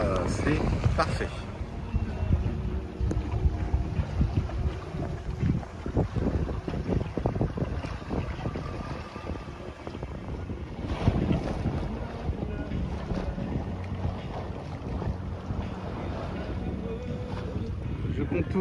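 Wind rushes and water washes steadily around a sailboat under sail in about 14 knots of apparent wind off the north of Île de Ré, a constant broadband roar with occasional louder gusts and splashes.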